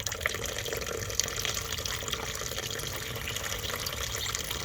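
Water runs steadily from a tap while hearth ash is washed, a continuous close hiss and splash with no breaks and no talking.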